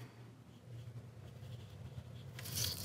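Soft, close pencil strokes scratching across paper in a steady, continuous sketching motion, faint and unaccompanied by speech, growing slightly louder near the end.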